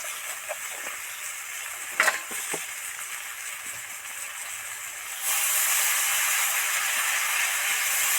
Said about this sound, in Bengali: মশলাগুলো ভালো করে মেশানোর জন্য একটু সামান্য জল ছড়া দিলাম